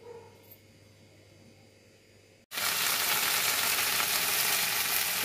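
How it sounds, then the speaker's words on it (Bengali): Okra frying in a pan in a home kitchen: a quiet room murmur with a faint yip first, then a sudden loud, steady broadband sizzle from about halfway on that continues without a break. "আর এটা তো দেখাই যাচ্ছে ঢেঁড়স ভাজা চলছে।"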